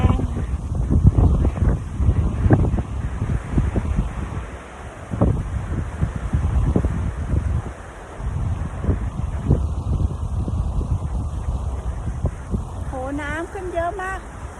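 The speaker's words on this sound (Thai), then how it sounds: "ไม่หนาวหรอกค่ะเพราะใส่เสื้อผ้าหลายชั้นนะคะ แต่ก็ลมแรง" Strong wind buffets the microphone in loud, continuous gusts, with a voice talking underneath and a few faint rising tones near the end.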